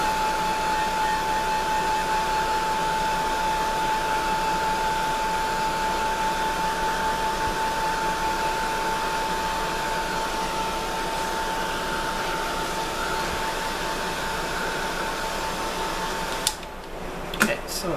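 A hair dryer blowing steadily on wet paint, a constant close whir with a high tonal whine that runs unbroken before cutting off near the end.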